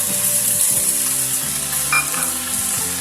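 Spinach and green peas fry in a wok with a continuous loud sizzling hiss that runs the whole time over a backdrop of steady tonal music, with one brief sharper crackle midway.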